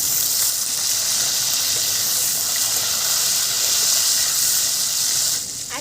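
Garlic and chopped tomato hit hot oil in a pan for restaurant-style chilli chicken, giving a steady, loud hiss and sizzle that runs unbroken throughout with no talk.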